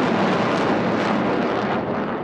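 Roaring jet noise from Russian military fighters, engines of about 13 tonnes thrust each, maneuvering in aerobatics at an air force centenary air show; a loud, broad, continuous rumbling roar that slowly fades.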